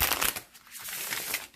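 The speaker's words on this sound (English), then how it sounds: "It riffle shuffles like a dream." A deck of oracle cards is riffle shuffled up close, a quick fluttering run of crisp card flicks that rises, eases off for a moment and picks up again, with nobody talking.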